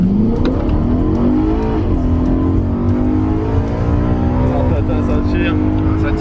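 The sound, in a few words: car accelerating hard on a closed road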